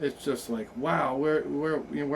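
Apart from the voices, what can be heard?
No everyday noises stand out.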